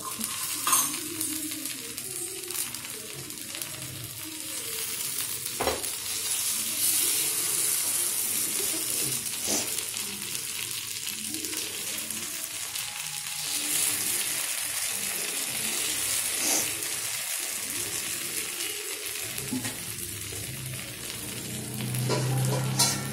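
Paniyaram made from idli batter fries in a pan, a continuous crackling sizzle with occasional metallic clicks and taps of utensils, steady throughout without talk.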